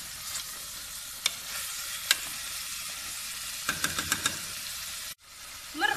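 Chicken and onion fry in oil, a soft steady sizzle broken by several sharp clicks and knocks of a utensil against the pan, close up and without talk.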